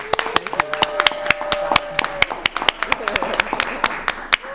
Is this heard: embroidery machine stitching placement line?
no